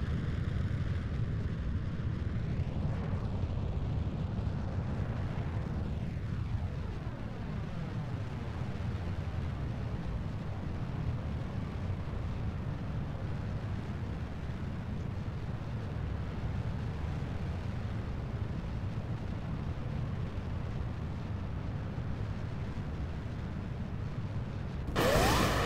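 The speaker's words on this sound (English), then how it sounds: "Lots of rocket noises." Rocket engines roar through a launch in Kerbal Space Program, a steady, loud low rumble sustained for the whole stretch with sweeping tonal shifts early on, no talk over it.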